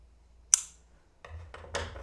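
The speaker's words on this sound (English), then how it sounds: "So just cut the yarn here" A single sharp snip of scissors cutting crochet yarn, close and crisp, followed by soft rustling handling of the yarn.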